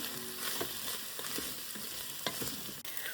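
Chicken, carrot and onion sizzle steadily in a multicooker pot, with occasional scrapes and clinks as they are stirred, close and fairly quiet.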